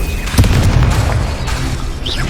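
A Confringo fire spell blasts in a Hogwarts Legacy duel, giving a loud, close boom with a rumbling low burst, followed by fading crackle and a brief bright whoosh near the end.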